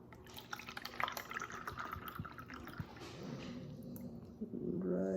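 One cup of water is poured into a measuring cup for a recipe in a kitchen, a steady splashing fill with small drips that rises in pitch and loudness toward the end, close by with no talk.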